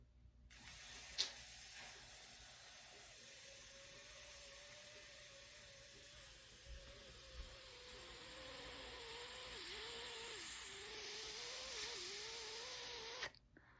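A singer slowly exhales a long, steady hiss through the teeth, imitating a leaky tire during a breathing exercise; the close, continuous airy sound lasts about thirteen seconds, with a faint low hum underneath.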